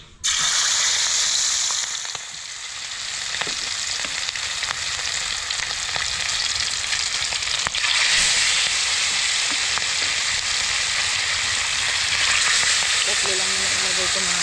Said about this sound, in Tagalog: Simula na tayong magprito. Ngayon nagpainit na rin ako ng mantika.